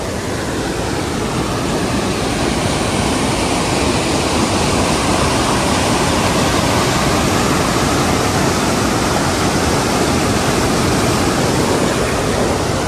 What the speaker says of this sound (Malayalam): ഭയങ്കര സൗണ്ടാണ് വെള്ളം ചാടിൻ്റെ